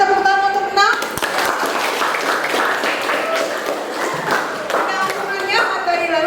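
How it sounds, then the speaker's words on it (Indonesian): Students in a classroom session give a round of applause for a classmate named Nang, a dense burst of clapping that fills most of the moment, with voices speaking at the start and end. "berikan tepuk tangan untuk Nang"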